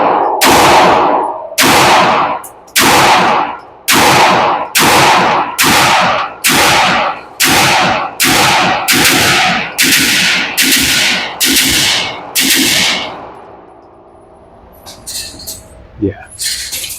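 Pistol gunshots fired at a target during a trigger test, a series of about fourteen loud, sharp cracks at a steady rhythm, each ringing out outdoors, followed by quieter handling noise.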